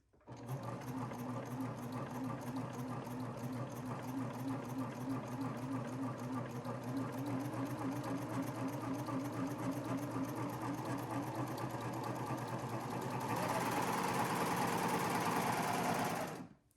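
A sewing machine with a presser foot and edge knife runs steadily, stitching fabric for a lounge set, loud and continuous for about sixteen seconds, its pitch rising slightly near the end before it stops.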